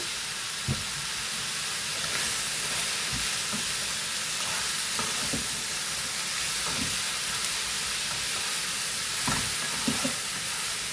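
Tomatoes with salt and ground coriander sizzling in a pan, a steady hissing fry bed broken by periodic low spoon knocks and scrapes as they are stirred, close and continuous with no talk.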